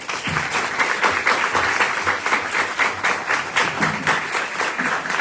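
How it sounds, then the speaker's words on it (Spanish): Sustained audience applause at a university dialogue event on philosophy and the essay, loud and even throughout, with many hands clapping in a dense, steady patter and no voices over it. "Gracias, un aplauso."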